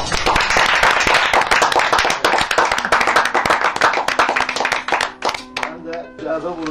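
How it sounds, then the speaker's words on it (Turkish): A crowd claps for a craftsman in a village workshop, dense rapid applause that thins into scattered claps near the end, with voices starting to talk over it. "arkadaşlar ustayı bir alkışlasak çünkü alkışı hak etmiştir yani"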